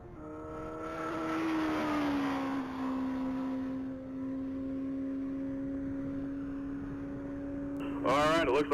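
Black 1999 Suzuki Hayabusa motorcycle on a top-speed mile run, heard as a distant, sustained engine whine with a gradually shifting pitch, ending in a brief burst of talk.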